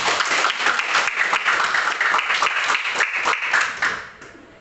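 Students in a junior high school classroom break into applause, a dense burst of many hands clapping close by, fading out toward the end.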